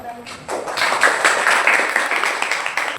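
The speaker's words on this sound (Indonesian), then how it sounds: "Berikan tepuk tangan untuk kelompok Laksel" A classroom of students claps for a presenting group, the dense applause swelling quickly and then holding steady for a few seconds.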